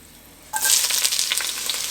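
Vegetables hit hot olive oil in a Dutch oven, a quiet moment breaking into sudden loud sizzling that continues as a steady, crackling hiss.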